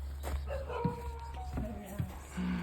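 A big, healthy dog at a cat shelter gives short yips and whimpering whines with a brief bark, mixed with nearby people talking over a steady low background hum.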